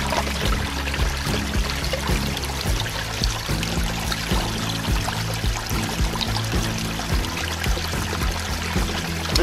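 Cold spring water from the holy mountain at Shirakami Sanchi in Akita, Japan, pours and trickles steadily close by, a continuous splashing flow with no talk.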